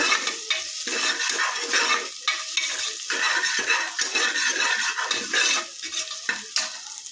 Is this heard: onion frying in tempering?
yes